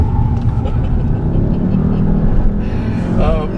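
A 2017 VW Jetta GLI engine drones loud and close from inside the cabin during a performance drive, a steady throaty roar that rises near the end as the car downshifts, with someone talking over it.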